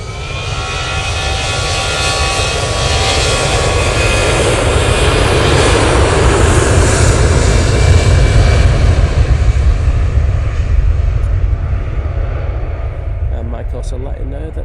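An Aer Lingus airliner at Manchester Airport heading back to Dublin gives a loud, sustained jet roar with broadband engine whine that builds gently and holds for the whole stretch before easing off near the end.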